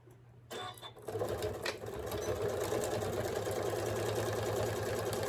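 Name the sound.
sewing machine straight stitching a fabric cover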